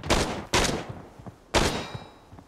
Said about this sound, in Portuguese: Alguém atirou em mim.